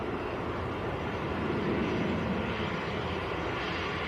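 A Lufthansa City airliner bound for Munich at Manchester Airport gives off a steady, broad jet-engine roar, loud and sustained, swelling slightly midway without any talk.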